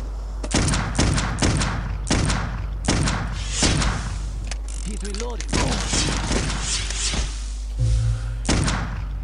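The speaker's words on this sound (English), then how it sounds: "why the hell are you shooting me?" Gunfire in Clive Barker's Undying, a 2001 first-person horror shooter: a rapid run of loud, sharp shots and thuds in uneven bursts across the whole stretch, with a short electronic tone near the end.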